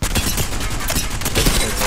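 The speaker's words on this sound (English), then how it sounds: "Opening fire on the enemy" Rapid, loud, dense gunfire from weapons in Apex Legends, a continuous close burst of overlapping shots filling the short stretch.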